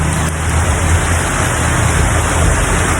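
Heavy rain pours down in a dense, steady hiss with no pauses, close and loud throughout.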